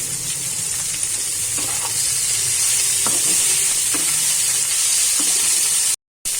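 Drained cabbage leaves, dried red chili, garlic, onion and salt are stirred in hot oil, producing a loud, continuous close sizzle with occasional stirring knocks and a brief cut to silence near the end.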